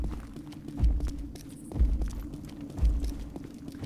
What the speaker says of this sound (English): I can hear the giant stomping up there.